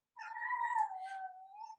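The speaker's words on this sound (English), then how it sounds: "Sorry, that noise is my kitten." A kitten gives one long, clear, drawn-out meow that rises and then slowly falls, heard alone and close up against a quiet background.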